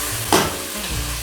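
Vegetables cooking with dry bay leaves and a bundle of thyme for split pea soup are stirred in a pot, a soft continuous sizzle with one brief scraping swirl of the spoon, close by and without voices.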